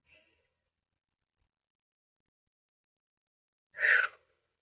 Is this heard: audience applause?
no